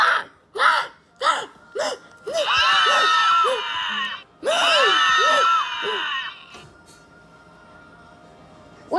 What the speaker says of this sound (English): What's all that screaming?